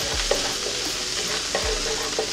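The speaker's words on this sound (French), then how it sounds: "On va ajouter le beurre dans la poêle qui chauffait entre-temps." Butter sizzles in a hot frying pan before salmon fillets go in, a dense, steady crackling hiss that runs throughout, close and loud, with a few soft low bumps from the pan.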